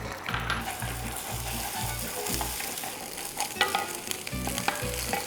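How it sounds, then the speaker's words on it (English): Eggs fry in a hot cast iron pan with a steady, close crackling sizzle, broken by a rhythmic low pulsing hum and occasional scraping clicks. "First up, I'm gonna fry our eggs."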